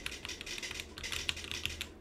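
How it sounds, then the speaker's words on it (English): Roccat Vulcan low-profile keyboard set to a typewriter sound effect, giving a fast run of crisp, close clacks with a few sharper louder strikes, no voices. "And a typewriter."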